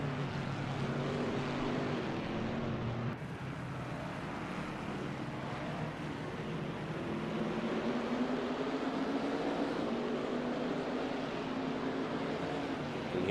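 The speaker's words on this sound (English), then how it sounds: "Here's some of them going wide open throttle there, trying to catch up to the rest of the grid" Race cars at wide open throttle at Misano in a racing game, a steady blended engine roar with pitch slowly climbing as they accelerate, heard at a distance without talk.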